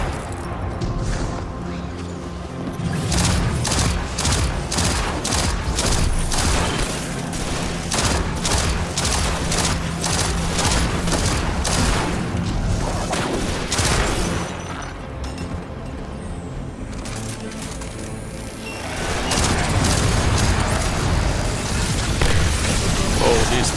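Turrets fire in Destiny 2 during a hectic fight, dense rapid bursts of gunfire and booming impacts rattling on almost without pause, loud and close, with a voice talking briefly underneath.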